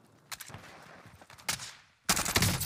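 Bursts of gunfire in a shooter video game, a few scattered shots early, then a sharp volley and a dense closing burst of rapid fire.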